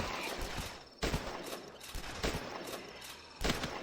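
Rapid bursts of gunfire in the zombie game The Last Stand, sharp repeated shots spaced through the clip over a steady noisy background.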